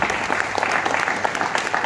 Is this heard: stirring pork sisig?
no